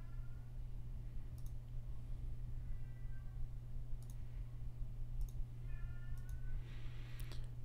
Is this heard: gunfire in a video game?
no